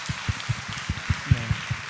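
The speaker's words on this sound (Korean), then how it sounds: "박수 한번 내요." A church congregation claps during an evening worship service, with soft, evenly spaced beats that form a steady rhythm over a quiet background.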